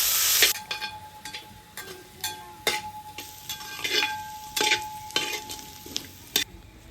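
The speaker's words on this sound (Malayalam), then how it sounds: "ഇനി അതിലോട്ട് ചെറിയുള്ളി, പിന്നെ അരിഞ്ഞു വെച്ച വലിയ ഉള്ളി ഇട്ട് നല്ലപോലെ ഒന്ന് ഇളക്കി കൊടുക്കണം കേട്ടോ." Shallots and chopped onions are sautéed and stirred in coconut oil for a village-style Kerala duck roast, giving steady close sizzling broken by repeated scraping stirs of a spatula against the pan.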